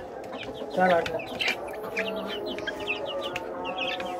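A rooster clucks in short bursts close by in a domestic setting, with a person briefly speaking over the bird sounds.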